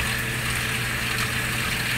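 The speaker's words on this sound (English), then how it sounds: "I'm going to rinse this little thing out here because it had the raw shrimp inside of it" Tap water runs steadily into a small plastic container that held raw shrimp, a continuous close gush and splash with no breaks and no talking.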